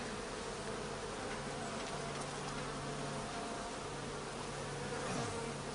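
Honeybees buzzing densely around an open hive during an inspection in late August, a continuous close, even hum with no talk.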